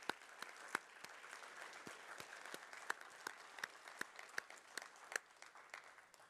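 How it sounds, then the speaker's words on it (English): Quiet, steady applause from a museum audience honoring volunteers, a sustained patter of many hands with a few sharper individual claps standing out, heard at some distance. "how about we all give a round of applause to our volunteers"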